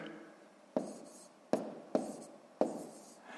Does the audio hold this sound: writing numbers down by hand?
yes